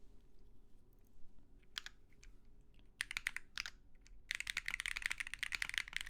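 Typing on a custom-built Vella 60PE mechanical keyboard with beige keycaps, close and quiet, starting with sparse scattered keystrokes, then short bursts, and finally a dense rapid run of clacks.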